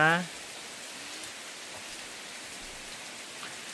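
Steady rain hisses evenly in the background, a soft constant wash with no talking, during the rainy season at Phu Hin Rong Kla National Park, Thailand.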